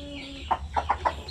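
Shamo aseel chickens give a few short, close clucks in quick succession, with a low steady hum underneath.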